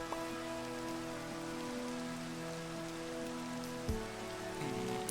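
Steady rain falls in the game Minecraft, a soft continuous patter spread evenly throughout, with a sustained musical tone running beneath it and a brief knock near the end.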